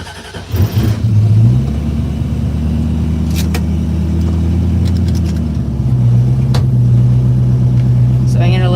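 A 1968 Ford Mustang with Sniper EFI idles steadily while warming up, a loud, close, continuous low engine rumble with a brief rev near the start and slight changes in pitch as it runs.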